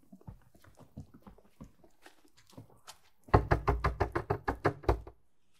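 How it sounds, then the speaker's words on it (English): Aggressive knocking on a door in The Quarry: scattered softer knocks and movement at first, then a loud rapid run of about ten heavy, evenly spaced knocks up close. "Why would I knock that aggressively?"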